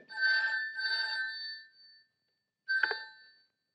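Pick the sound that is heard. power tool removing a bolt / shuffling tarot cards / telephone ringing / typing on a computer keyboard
telephone ringing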